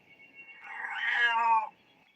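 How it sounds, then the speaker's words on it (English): Cat meowing while throwing a fit over a sleeping spot, one drawn-out rising and falling yowl, fairly close and moderately loud against a quiet background. "But I suppose I should be lucky that all they do is meow."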